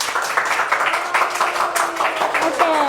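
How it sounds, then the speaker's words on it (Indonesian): Students in a classroom clap together, a short burst of fairly loud hand clapping with some voices mixed in. "boleh tepuk tangannya"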